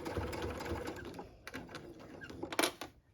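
A sewing machine stitches quilt pieces together in a steady rapid whirring run, fairly faint and close, with a few soft clicks and handling noises toward the end.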